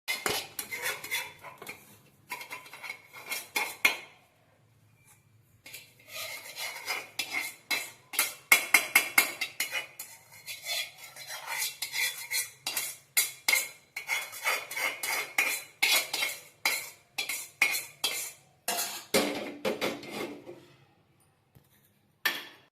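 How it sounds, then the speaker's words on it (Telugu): Semolina (rava) roasting in a pan for rava laddu, stirred with a metal spoon: a steady run of close, sharp scraping and clinking of utensil on metal, in bursts with a few short pauses. "రవ్వ దోరగా వేయించుకోవాలి"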